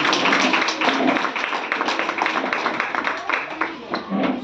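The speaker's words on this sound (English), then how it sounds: "A better round of applause, please" A live audience at a children's health and eczema learning event at Gertrude's Children's Hospital claps steadily, a dense, continuous round of applause with crowd chatter mixed in.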